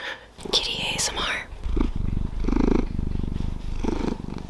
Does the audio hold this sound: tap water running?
no